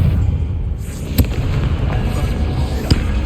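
A Confringo fire spell in Hogwarts Legacy bursts with two sharp, loud blasts over a dense rumbling game soundscape.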